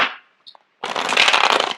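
Tarot cards shuffled by hand: a short soft riffle and a couple of faint taps, then a close, loud burst of rapid flapping card riffling lasting about a second.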